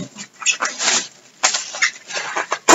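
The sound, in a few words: handling bubble wrap from a package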